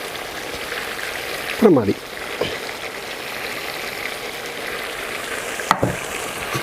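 Sliced medium onions hit hot oil in a pot for biryani and fry with a steady, close sizzle, broken by a couple of brief stirring scrapes; a voice speaks briefly over the cooking.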